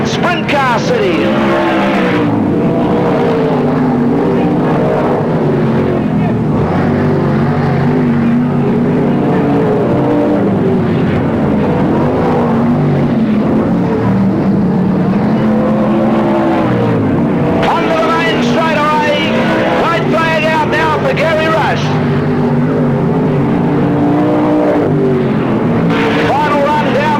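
Division 1 sprint cars race at PCR speedway, Sprint Car City, engines roaring loudly and continuously as cars pass close by, with an announcer talking over the racing.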